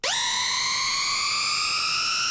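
Harsh, buzzy synthesizer tone designed in Serum to mimic a power drill, rising quickly in pitch then holding a bright, whining sustained note for about two seconds, loud and alone.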